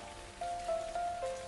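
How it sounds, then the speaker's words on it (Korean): Steady rain falling in a drama scene, a soft continuous patter filling the background with a faint tonal hum running through it; no voices. "오랜만에 비가 오네"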